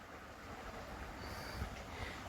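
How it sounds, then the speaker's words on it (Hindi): River water flows through a deep rocky gorge at Patalkot, a steady low rushing that sounds moderately distant and echoes off the layered cliffs, with no voices over it. "इधर एकदम पानी बह रहा है"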